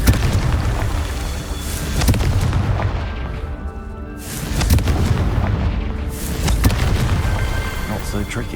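Confringo blasting spell explosions in the Hogwarts Legacy video game, heavy booming blasts recurring every couple of seconds over a dense rumbling game soundscape, loud and close throughout.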